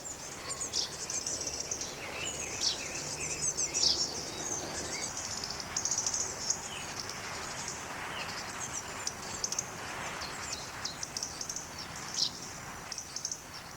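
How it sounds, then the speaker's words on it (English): A robin low in rhododendrons gives repeated hard ticking clicks while a chaffinch chirps nearby, both fairly faint over a light outdoor background with insect-like buzzing. "You have both a robin ticking, which you can hear just low down in the rhododendrons there, and also that chirping noise is a chaffinch."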